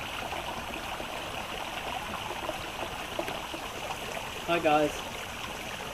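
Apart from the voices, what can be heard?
waterfall flowing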